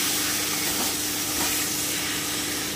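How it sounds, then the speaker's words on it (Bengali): Chicken mince with a splash of water sizzles steadily in a pan while being stirred, a close, continuous frying hiss with faint scraping and no pauses. "আমি একটু নেড়ে দিচ্ছি।"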